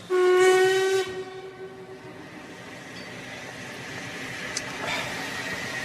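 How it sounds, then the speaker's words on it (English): A steam train whistle shrieks loudly for about a second as the London train departs, followed by a long fading tail and the steady rumble of the train pulling away. "Was that the London train?"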